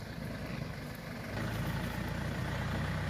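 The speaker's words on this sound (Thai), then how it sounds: "รถไถมาแล้วพี่น้อง รถไถมาแล้วครับ" A farm tractor engine idles with a steady low rumble, growing slightly louder partway through as it draws nearer, heard alone in an evening rural setting.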